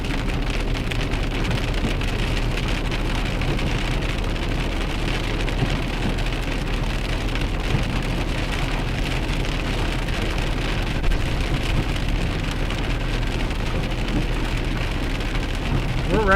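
Heavy rain pours steadily during a Virginia thunderstorm under a severe warning, a dense unbroken hiss of drops striking surfaces, with a low rumbling undertone and no voices.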